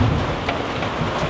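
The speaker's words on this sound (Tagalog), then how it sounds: "Pagka ganito po umuulan, siksikan po kami sa isang gilid kung saan po yung walang tulo." Heavy rain drums steadily on a leaky roof, a loud, dense, continuous hiss with no pauses and no voices.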